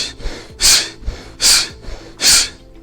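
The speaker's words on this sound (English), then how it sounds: "Now I'm jogging and breathing." A person jogging breathes heavily and close to the mic, with three loud, forceful breaths in a steady rhythm and quieter inhales in between.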